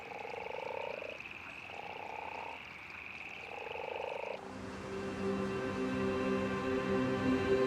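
Male leopard toads call together at a suburban pond near Cape Town, a dense chorus of steady pulsing snores and trills that overlap continuously, loud and close, with no voices.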